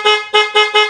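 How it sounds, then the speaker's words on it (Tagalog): Dual loud horn fitted to a Raider 150 motorcycle honks four times in quick succession, each blast loud, close and brassy, with no talking. "Busina po natin sa high."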